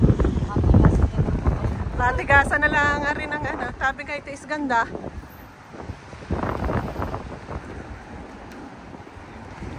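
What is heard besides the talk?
strong wind at the beach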